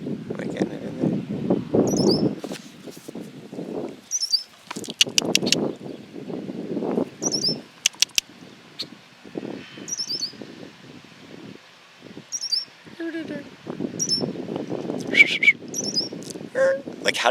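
Short high chirping bird calls recur every few seconds, fairly faint, among rustling and intermittent talking.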